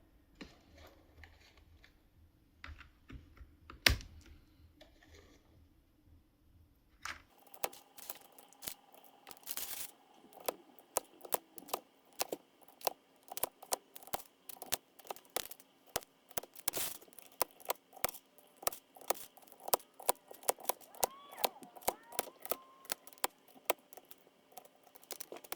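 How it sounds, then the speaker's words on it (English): Kisnt KN85 linear silent switches are pressed one by one into a K530 budget keyboard, making a long run of sharp, close plastic clicks and snaps at an irregular pace, with no one speaking. "let's get these switches in"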